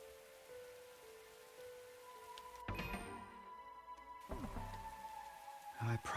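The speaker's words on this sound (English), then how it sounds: "Raindrops were pelting the rooftop all around me, producing a relentless rhythmic beat." Rain pelts a rooftop in the video game The Hundred Line, a steady hiss of drops with tonal game music layered over it and a few brief louder knocks.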